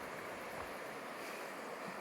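Panther Creek on the Pacific Crest Trail flows in a constant, soft rushing wash, steady and unbroken, fairly faint and heard alone without voices.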